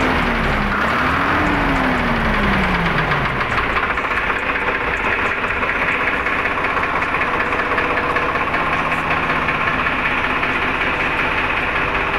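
Farmtrac 45 tractor engine idling steadily at close range, a low rhythmic diesel chug with a brief rising and falling tone early on, no voices.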